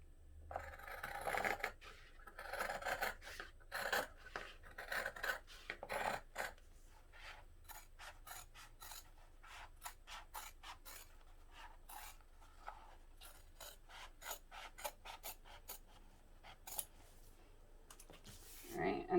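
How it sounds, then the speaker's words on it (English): Scissors snip through fabric while cutting along a drawn line for a zippered hobo bag, a run of quick, close, crisp crunching cuts that continues steadily after a brief burst of louder rustling. "I'm just going to draw a line and then I'll cut it with my scissors."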